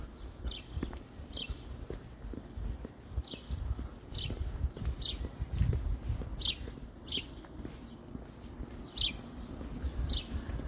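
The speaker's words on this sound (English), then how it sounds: "Now we can hear the birds." Small birds chirp in short, repeated bright calls at a steady pace, moderately distant, over a low background of outdoor rumble and occasional knocks in downtown Toronto on a Sunday evening.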